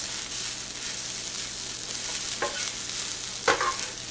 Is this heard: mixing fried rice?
yes